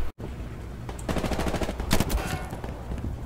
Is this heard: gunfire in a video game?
yes